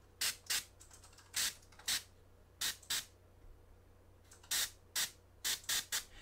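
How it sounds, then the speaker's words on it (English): An airbrush sprays paint onto a painted face in a glazing demo, about a dozen short, quiet hissing bursts at an uneven rhythm separated by near silence. "I'm just spraying down that face a little bit."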